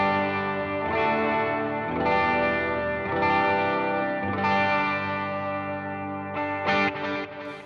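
An electric guitar runs through a Line 6 Helix with a Minotaur overdrive and a hall reverb into stereo Vox AC15 and Fender Deluxe Reverb amp models, playing sustained, lightly driven chords that ring and decay with echoing space, alone without talk.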